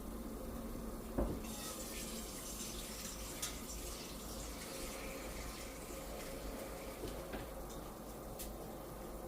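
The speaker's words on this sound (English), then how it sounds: "I'm going to add just a little bit more water." A steady stream of water pouring and splashing into a cooking pot, continuous and fairly close, with a brief clank near the start.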